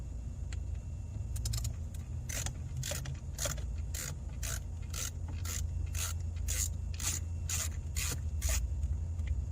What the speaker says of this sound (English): Unscrew this real quick.